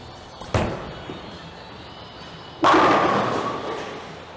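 A league bowling ball crashes into a full rack of pins, a faint thud first, then a loud, sharp scattering clatter that rings out and fades over a couple of seconds.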